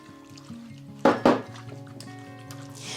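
Liquid is poured out of a bowl amid soft kitchen clatter, with two sharp clinks of a dish midway and a light splash at the end.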